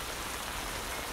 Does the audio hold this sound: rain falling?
yes